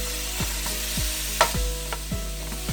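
80/20 ground beef browning in a pan, a steady crackling sizzle with a few scraping stirs as the meat is broken up, close and continuous with no talking.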